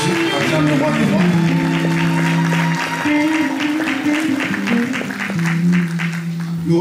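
A Christian church congregation at a Paris gathering claps loudly and steadily in acclaim, mixed with sustained music or voices that form a continuous backdrop beneath the applause.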